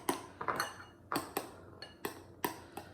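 A spoon clinks against a glass jar while stirring pear juice and basil leaves into homemade kombucha, giving sharp, irregular taps and scrapes about every half second, close and fairly quiet with no talking.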